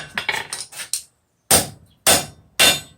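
A blacksmith's hammer strikes hot steel while forging a church key bottle opener, a quick run of fast ringing blows followed after a pause by three heavier, evenly spaced hits, close and loud.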